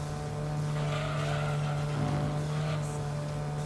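Engine of a purple Toyota Vitz at full throttle in the racing game Gran Turismo 2, a steady loud drone holding one pitch throughout with faint tire noise, no talking.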